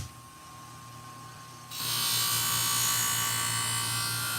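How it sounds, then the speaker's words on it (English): A honing wheel starts up and runs steadily to sharpen auto upholstery shop scissors, a loud continuous high whirring that kicks in abruptly after a quieter stretch of low hum. "So we'll go to the honing wheel."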